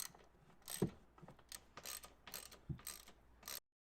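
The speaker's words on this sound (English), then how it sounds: "With a T30 bit on the socket, I can remove all 4 bolts." Ratchet wrench fitted with a T30 Torx socket bit backing out bolts during a battery swap in a 2013 Lamborghini Gallardo, a run of quick close clicking bursts with short pauses between them.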